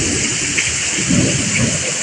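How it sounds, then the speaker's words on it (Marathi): Heavy rain pours in Kalsuli in the Konkan, a loud, dense roar of water with deep rumbling thunder rolling underneath for the whole short stretch. "जोरात पाऊस चालू हा कळसुलीत"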